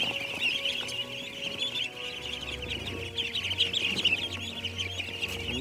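A flock of ducks eats feed greedily before being released into a rice paddy, giving a continuous busy chatter of quacks and clucks with wet, dabbling feeding noises close by.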